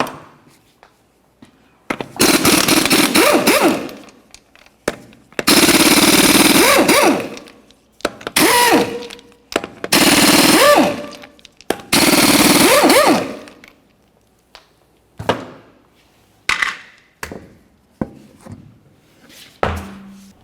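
Impact wrench removing five 19mm lug nuts from a 2001-2005 Ford Explorer Sport Trac wheel: loud bursts of rattling hammering, several spaced a second or two apart, then shorter clanks and clicks between quiet gaps.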